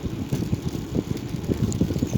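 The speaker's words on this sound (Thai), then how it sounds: "ออกมาทุ่งนี่ลมแรงแรง" Gusty wind buffets the microphone in an open field, a steady low rumble with irregular surges and flutters throughout.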